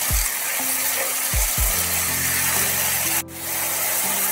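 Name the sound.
semolina frying in oil while being stirred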